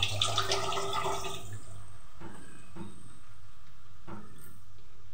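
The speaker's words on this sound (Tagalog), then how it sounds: "lagyan na natin siya ng konting tubig" A small amount of water poured into a pot of pork, a short splashing pour at the start, then a few faint drips and light knocks in a quiet kitchen.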